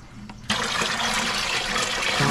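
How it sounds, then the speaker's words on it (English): Water from a fish trap pours into a pond, a sudden loud gushing splash that starts abruptly and rushes steadily for about two seconds. "Dump the water into there."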